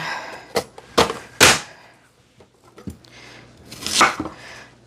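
An onion is diced with a knife on a cutting board: a handful of sharp, irregular chops ring out close by, with quiet pauses between them and no talking.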